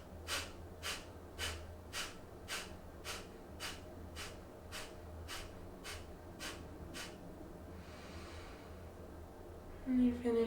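Rapid rounds of forceful nasal breathing during a yoga breathing exercise, about a dozen sharp evenly spaced exhales in a steady rhythm, followed by a quieter stretch and a faint rustle at the end.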